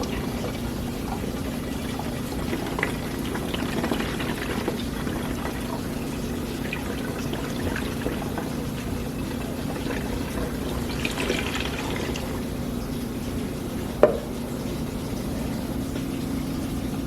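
Cold water being poured into the cooling system of a supercharged LSA Chevy SS, a steady low trickling and filling sound running throughout at moderate level, with a single sharp knock near the end.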